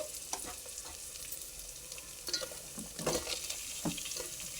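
Sliced onions and green chillies frying in oil in a pan for veg biryani, a soft steady sizzle with occasional louder stirring scrapes, heard close but fairly quiet.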